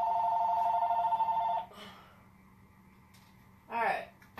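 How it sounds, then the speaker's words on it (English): A telephone rings indoors in a workshop where clay is being shaped, its steady electronic trill sounding for about a second and a half before stopping, followed by a quieter pause and a short burst of voice. "of course the phone's ringing while I'm trying to do this"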